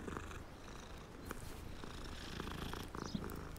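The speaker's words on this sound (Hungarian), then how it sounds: "Szépen dorombol." A black cat purring in the video game Hogwarts Legacy, a soft steady rumbling purr that continues evenly and close throughout, with no talking.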